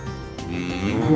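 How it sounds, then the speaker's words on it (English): A cow moos once, a short, fairly loud and close lowing call that rises toward the end, with no talk over it. "This is a cow."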